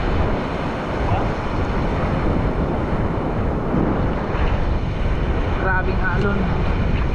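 Big ocean waves churn around a small fishing boat at sea, a loud, constant rush of water and wind buffeting the microphone, with brief voices near the end.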